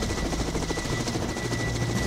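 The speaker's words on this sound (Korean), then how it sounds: "한 번에 비행에 무려 2톤의 짐을 헬기로 수송한다고 합니다" A helicopter carrying two-tonne cargo loads on a mountain trail repair job makes a steady, loud rotor thrum with dense engine roar, continuous throughout and close by.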